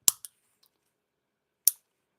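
Press-on nail tips being clipped with a cutter, a few sharp isolated snips close to the ear: two quick cuts together, then a single one after a pause, in an otherwise silent room.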